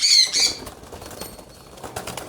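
Small caged birds being taken out of their cage flap their wings in a loud, close flurry at the start, followed by quieter rustling and fluttering.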